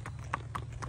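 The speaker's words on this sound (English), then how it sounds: "Go ahead and ride past us there, Cutter." Hooves of a ten-year-old Missouri Fox Trotter gelding clip-clop on the ground as the horse is ridden past at an auction, a steady rhythm of close, distinct footfalls over a low background hum.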